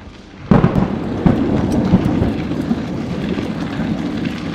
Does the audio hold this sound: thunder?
yes